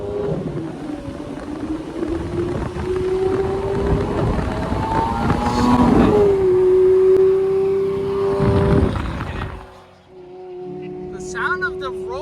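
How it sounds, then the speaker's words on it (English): Roaring V12 car engine revving hard, a loud sustained engine roar that rises and falls in pitch, heard up close with wind noise and then cutting off abruptly near the end. "sound of the roaring V12 is just so cool"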